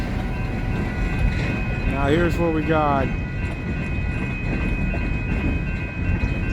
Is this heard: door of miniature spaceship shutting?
no